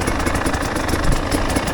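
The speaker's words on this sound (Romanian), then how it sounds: "Astăzi suntem cu motorul, cu Dragoș." A motorcycle engine idles steadily nearby, a loud, continuous, even mechanical rumble with a fine rapid pulsing and no speech over it.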